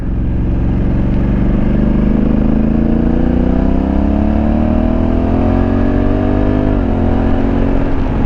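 A Honda Africa Twin CRF1100L DCT motorcycle revs loudly and steadily under acceleration, its engine note climbing, then an automatic gear change near the end drops the pitch with a quick pop before the engine pulls on.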